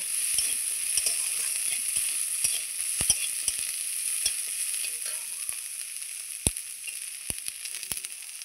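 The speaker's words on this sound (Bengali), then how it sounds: "এখন আমি এর মধ্যে একটু দিয়ে দেবো কালো জিরা, দিয়ে আবারও ভালো করে ভেজে নেব।" Onion and black cumin seeds fry in a pan with a loud, steady sizzle, scattered sharp crackles and pops, and occasional stirring, heard up close with no talking.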